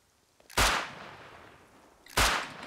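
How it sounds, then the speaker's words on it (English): Two sharp pistol gunshots in the video game Rust, spaced about a second and a half apart, each a loud crack with a short decaying tail, no voices. "Yeah, that was me with the pistol shooting."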